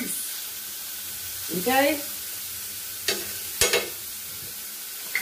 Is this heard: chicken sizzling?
yes